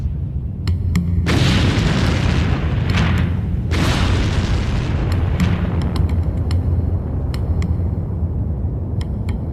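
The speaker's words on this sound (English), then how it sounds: "this explodes out of the lava into the atmosphere" A volcanic eruption of gas bursting from lava roars as a continuous loud, deep rumble, with heavy booming surges and crackling on top throughout.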